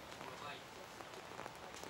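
Steady rain pattering on surfaces at an outdoor women's recurve bronze-medal archery match in London, a soft continuous hiss with scattered drops, faint and unbroken throughout.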